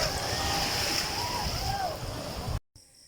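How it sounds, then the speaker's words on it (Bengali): Sea waves roll and wash steadily at Guliakhali beach, a dense continuous roar of surf close by that cuts out abruptly near the end. "এখানে সমুদ্রের ঢেউ আস্তে আস্তে বাড়তেছে"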